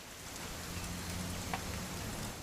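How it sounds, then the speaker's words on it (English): Steady rain falling in the video game What Remains of Edith Finch, a faint even hiss of drops with a low background hum, no voices. "It's gonna rain the whole weekend"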